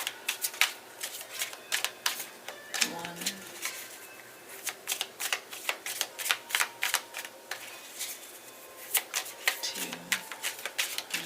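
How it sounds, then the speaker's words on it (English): Tarot cards being shuffled in quick riffling bursts, crisp repeated clicks with brief pauses between rounds, close and clear, while a voice counts quietly in between. "Alright, 3 shuffles."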